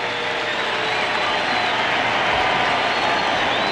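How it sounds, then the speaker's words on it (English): A large crowd of Cardinals fans at a baseball game gives Gary Gaetti a sustained ovation, with dense, loud clapping and cheering that continues without pause. "Gary Gaetti gets a big ovation from many Cardinals fans"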